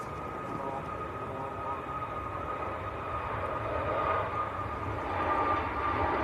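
A Ryanair airliner on its takeoff roll at Manchester Airport, heard from a distance as a broad, steady engine roar that slowly swells in loudness.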